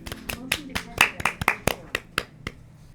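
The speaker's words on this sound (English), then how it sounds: "Yay, clap for my wife!" A few people clap unevenly for about three seconds. The claps are sharp, close and loose in rhythm, and they thin out toward the end.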